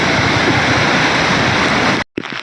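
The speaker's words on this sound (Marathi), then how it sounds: "हे बघा मित्रांनो पाण्याला प्रेशर बघा एवढा प्रेशर पाण्याला" Floodwater from heavy rain rushes under strong pressure through a flooded village, a loud, steady roaring wash that continues unbroken before cutting off abruptly near the end.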